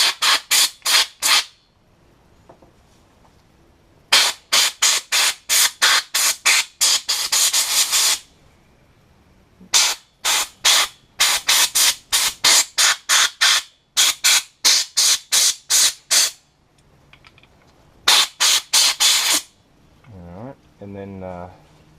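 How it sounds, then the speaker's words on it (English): Repeated short bursts of pressurized spray hissing fluid out of a submerged two-stroke outboard motor, in rapid on-off pulses, loud and close, with brief pauses between volleys. "I'm just going to spray the bulk of the fluid out to start with"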